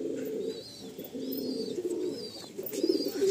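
A pair of Madrasi pigeons coos softly and repeatedly, close by, with low rolling calls over faint background chirps and no speech.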